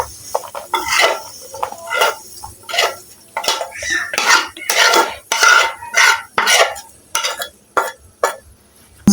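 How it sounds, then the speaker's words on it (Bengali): Fried meat and its oil are tipped from a pan onto a plate, with a close series of rhythmic metallic scrapes and clinks from a utensil against cookware. "মাংসটা প্লেটের মধ্যে তেল সমেত ঢেলে নিচ্ছি"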